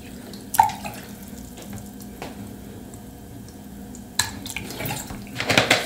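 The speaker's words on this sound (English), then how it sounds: "Let's go ahead and pour some of our developer." B&W film developer liquid poured into a Paterson developing tank for two rolls at home, soft watery trickling with a few sharp clinks and splashes, the pouring swelling louder near the end.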